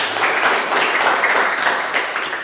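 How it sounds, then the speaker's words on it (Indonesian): Students in a classroom clap together in a dense, steady burst of applause, close and loud, fading slightly at the end. "tepuk tangan untuk kita semua"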